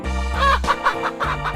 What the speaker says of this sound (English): Chicken. Chicken.